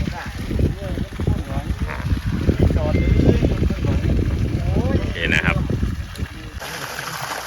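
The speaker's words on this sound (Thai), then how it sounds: "น้ำก็ยังไหลอยู่นะครับ อันนี้คือ แดดไม่มีนะครับ แต่ดูน้ำไหลนะครับ" Water gushes steadily from the 1.5-inch outlet pipe of a 750W solar-powered pump fed by three 555W mono panels in weak sunlight. It is a continuous rushing flow heard under someone talking.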